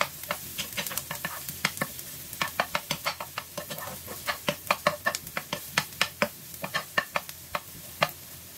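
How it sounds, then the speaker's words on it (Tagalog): Onions sizzling as they brown in a pan for pork belly and eggplant adobo, with rapid, repeated scraping and tapping of a spatula over a soft frying hiss. "Unahin natin ilagay yung sibuyas. Brown natin ng konti mga loads."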